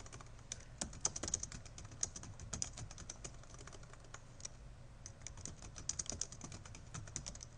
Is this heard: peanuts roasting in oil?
no